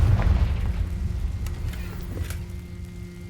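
A Confringo fire spell explodes in Hogwarts Legacy, a deep rumbling boom at the start that rolls and slowly fades over a few seconds with light debris crackle, alone and close.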